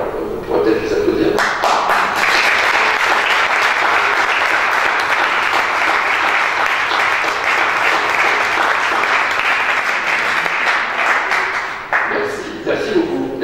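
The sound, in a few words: audience applause at a town council meeting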